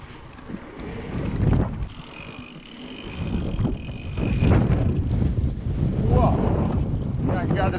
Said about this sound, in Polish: Wiatr zawiewa.